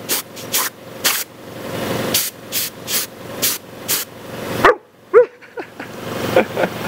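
A Newfoundland dog barks repeatedly in short deep bursts at an air compressor, with sharp bursts of hissing air and a person speaking at points in between.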